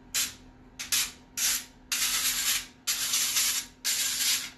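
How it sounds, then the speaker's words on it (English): Cooking spray from an aerosol can hits paper muffin liners for keto blueberry muffins in six separate hissing bursts of varying length, close and fairly loud, with a steady low hum underneath and no talking. "As soon as I spray these, they're gonna fucking go everywhere."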